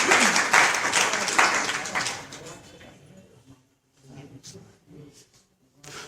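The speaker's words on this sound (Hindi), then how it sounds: "ताली।" Applause from listeners at a satsang held in a house, a loud round of clapping for about two seconds that quickly thins into a few scattered claps and room sounds, with faint talk afterward.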